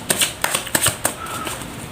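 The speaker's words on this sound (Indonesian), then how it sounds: "Langsung saja saya shuffle kartunya." A deck of tarot cards being shuffled up close, with crisp riffling bursts and sharp paper slaps in a quick, uneven rhythm, followed by a softer stretch of light card rustling.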